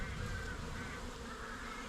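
Honey bees at an opened beehive hum in a dense, continuous buzz, close and steady throughout.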